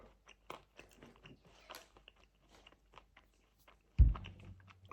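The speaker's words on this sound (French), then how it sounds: "je prends une petite bouchée" Someone chews a small bite of cake close to the mic, with soft crunchy, irregular mastication clicks through quiet and one louder thump near the end.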